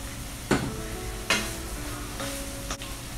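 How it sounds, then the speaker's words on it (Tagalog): Ground chicken frying for tortang giniling crackles steadily as green peas go in, with two distinct clattering drops and stirring over a constant low sizzle. "Tapos ilagay na natin yung green peas."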